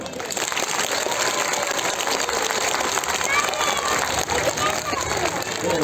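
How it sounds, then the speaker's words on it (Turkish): A crowd gives dense, loud, sustained applause at a Victory Day celebration in Çerkeş, the clapping steady and unbroken from start to finish. "Ama, ama güçlü bir alkışla lütfen."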